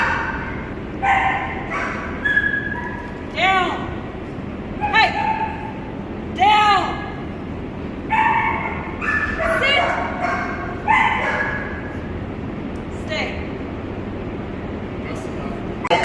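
A dog yips and barks repeatedly in short bursts spread over sixteen seconds, close and fairly loud against a noisy background, with quieter stretches toward the end.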